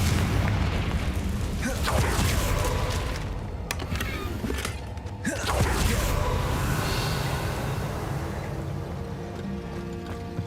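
Confringo blasting spell explosions in the Hogwarts Legacy video game, a dense run of booming bursts and crackling impacts, loud and close, with a sharp blast near the middle and rumbling aftermath.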